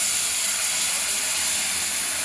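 Water poured into a hot pan of egg gravy gives a loud, continuous sizzling hiss that stays bright and steady for a couple of seconds with no talking.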